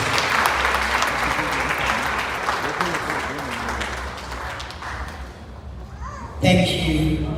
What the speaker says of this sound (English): I think another round of applause is in place.